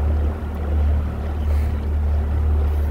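A four-stroke 150 outboard motor runs at a steady low drone on a Phoenix 818 Pro boat, with water and wind noise over it.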